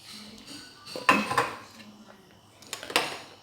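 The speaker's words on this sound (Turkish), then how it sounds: "Evet şöyle karıştırıyorum." Metal utensil scraping and clinking against a bowl while cake batter with milk is stirred by hand, a few irregular louder knocks among softer scrapes, close by.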